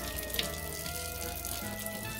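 Water poured from a can over pasta and crushed tomatoes in an Instant Pot inside an RV kitchen, a steady continuous splashing pour at close range with no talking.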